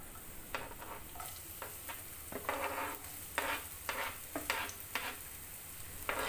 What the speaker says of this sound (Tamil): எண்ணெய் சூடானதும் அதில் நறுக்கி வச்சுருந்த வெங்காயத்தை நான் இதில் சேர்த்துக்கிறேன்.